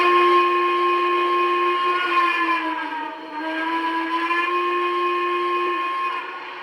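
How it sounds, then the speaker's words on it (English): Default steam whistle of a Lionel Vision Line Triplex model steam engine, a sustained chord-like tone lasting several seconds that briefly dips in the middle before resuming, then trails off, with no talk. "using the default whistle on the Lionel Vision Line against the default whistle, or the only whistle, on the MTH Premier"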